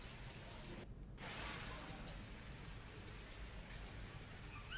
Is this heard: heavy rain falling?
yes